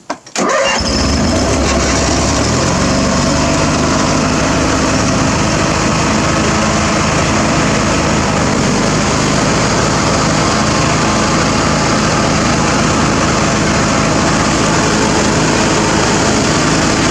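A Craftsman lawn tractor and a John Deere lawn tractor start up and race, their small engines roaring loud and steady after a sharp start, with no talk.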